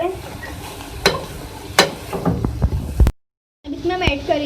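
A spoon stirs chicken filling seasoned with black pepper and salt in a pan, giving repeated scrapes and knocks over a light sizzle. The sound cuts to silence for a moment, then resumes.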